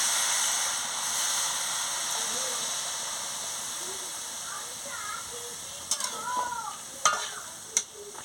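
A spoon stirs a cabbage, sweet potato and eggplant curry in a sizzling pan, a soft steady hiss with occasional scraping clicks toward the end, close and fairly quiet, with faint voices in the background.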